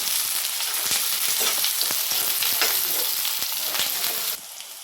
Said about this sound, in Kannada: ಹಸಿಮೆಣಸಿನ್ಕಾಯಿ, ಇದು ಚೆನ್ನಾಗಿ ಫ್ರೈ ಆಗಲಿ.